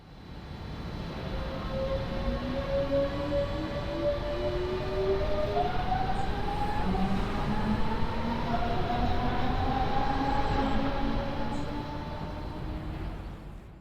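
BR425 electric multiple unit motors in Train Sim World 3 on the Bremen to Oldenburg line, a steady rolling rumble with rising and falling whining motor tones sweeping upward as the train gathers speed.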